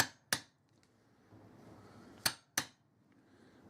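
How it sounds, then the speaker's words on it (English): A fairly sharp metal chisel struck with a hammer to texture a copper bracelet: four crisp metallic taps in two pairs, close and loud, with quiet handling noise between them. "I'm going to use just a fairly sharp metal chisel, just to put a few striations in it, random."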